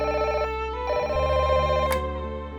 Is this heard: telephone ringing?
yes